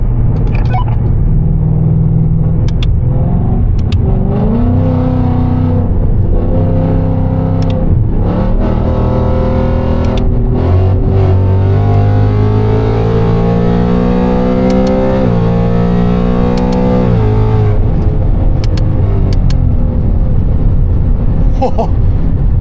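A catless Ford Mustang 5.0 V8 revs and accelerates, loud and close, its rumbling note climbing through the gears in repeated pulls with brief drops between them over a constant road roar.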